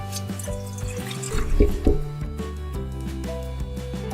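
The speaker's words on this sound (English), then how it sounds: "Next, we're going to need 3 cups of water." Water pours steadily into a bowl nearby with a continuous gurgling splash, plus a couple of soft knocks partway through.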